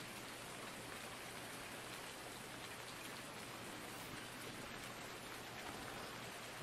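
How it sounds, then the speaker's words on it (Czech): Steady, even rainfall in a video game hisses continuously at a soft level, with no other sounds breaking through. "že celkom dosť prší"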